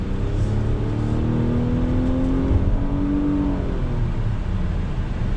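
A 2020 Infiniti QX60 Luxe accelerates on throttle, heard from inside as a steady engine drone with slowly rising tones over road and wind noise, continuous and fairly loud.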